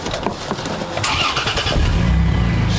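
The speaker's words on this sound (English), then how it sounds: "I'm gonna drive the Toyota." A Toyota Tundra pickup, a 2022 model, engine cranks and catches, then settles into a steady low idle rumble heard alone from close by.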